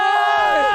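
A large crowd at the MPL esports grand final between RRQ and Alter Ego lets out a brief, loud burst of cheering and whooping.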